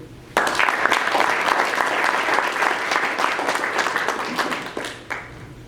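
Round of applause for participants at a school STEM event, a crowd clapping briskly and loudly from a sudden start, with individual claps standing out before it thins near the end.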